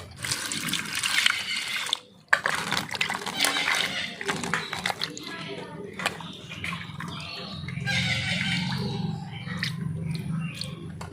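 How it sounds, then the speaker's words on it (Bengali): A pumpkin being washed with water by hand, splashing and sloshing up close with a brief pause, rubbing and trickling sounds, and faint voices in the background. "এখন জল দিয়ে ধুয়ে নেব।"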